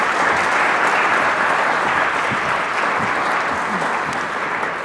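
Sustained applause from a concert audience at a choir performance, a broad, even wash of clapping hands at moderate level throughout, with no speech.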